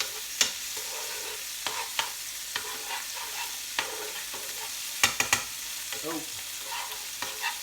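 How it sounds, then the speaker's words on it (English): Tomatoes, garlic, capers and chilli frying in a pan for penne, with a steady sizzle broken by repeated sharp scrapes and clacks of stirring; a brief voice is heard once. "I'll cook all those flavours of garlic, capers, chilli. Get the tomatoes in there."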